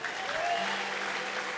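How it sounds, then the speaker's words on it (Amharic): Congregation applauding in a church service, a steady wash of clapping with a faint tonal line that may be voices or ululation mixed in, continuous and moderately near throughout. "ጉባኤ ለጌታ እልልታ ጮህት ለጌታ ጭብጨባ"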